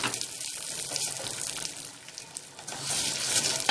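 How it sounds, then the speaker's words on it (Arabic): Vermicelli fries in ghee in a pot, giving a steady, close hiss and sizzle with faint stirring scrapes and no voices. "نحمر الشعريه بقى كويس"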